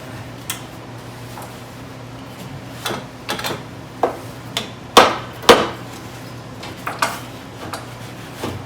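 Hammer blows knock at a jammed exhaust pipe flange bolt under a 1926 antique car, about a dozen sharp metallic whacks in an irregular series. The loudest two land near the middle, against a steady low hum.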